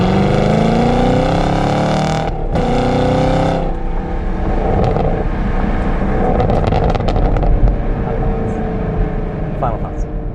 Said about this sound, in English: Absolutely incredible sounding, very raw, natural V8 sound.